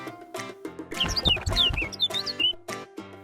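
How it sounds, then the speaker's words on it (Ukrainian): A cartoon bird chirps in a quick series of bright, high tweets over light playful music in a children's animation. "пташка."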